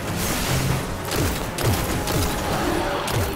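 Rapid gunfire from a sci-fi shooter, Destiny: The Taken King, rattles in quick repeated bursts against enemy forces, loud and close with little else around it.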